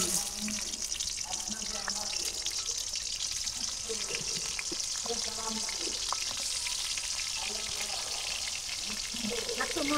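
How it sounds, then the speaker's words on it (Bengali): Jackfruit fries in hot oil with a constant hissing sizzle, joined by stirring and faint clinks, steady and moderately loud from start to finish. "তেল গরম হয়ে গেছে, কাঁঠালটা ভাজা সরাই দিই।"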